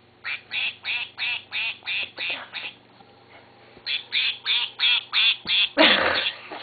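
A squeaky toy duck gives two bursts of rapid, evenly spaced quacks, loud and close, separated by a brief pause and ending in a louder squawk.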